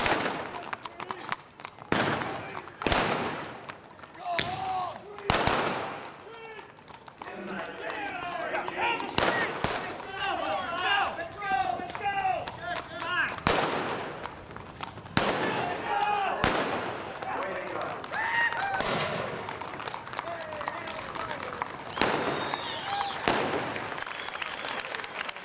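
Blank gunshots fired during a reenactment of the Jesse James raid on Northfield, sharp loud cracks scattered irregularly over the scene, with crowd noise and voices murmuring between them outdoors.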